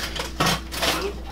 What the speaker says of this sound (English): I'm going to go ahead and put these in my blender cup while I tell you what they are.